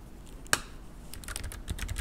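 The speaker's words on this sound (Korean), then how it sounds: "타이핑을 할게요." Typing on a computer keyboard: one sharp key click, a brief pause, then a quick burst of close, crisp keystrokes tapping in irregular rhythm.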